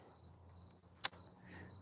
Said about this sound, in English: I don't know if you guys can hear the crickets.